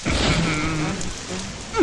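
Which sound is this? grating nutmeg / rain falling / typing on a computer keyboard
rain falling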